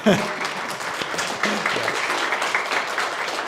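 An audience at a startup pitch night claps for the judges seated in the corner, a brief burst of applause right after a voice over a microphone, with talk continuing over the clapping.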